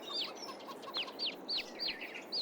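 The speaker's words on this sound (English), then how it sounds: "Look, we've got some baby chicks." Chickens and baby chicks in Farming Simulator 22 make a string of high peeping chirps and soft clucks, repeated in quick irregular bursts over a steady background hiss.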